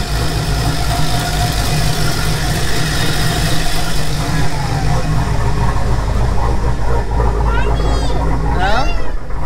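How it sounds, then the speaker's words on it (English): An LS-swapped Nissan 300ZX idles after its first start of the season, a loud, steady low rumble close by with continuous engine drone, while a few faint bird chirps come in near the end. "Engine sound good too, it sounds smooth as hell."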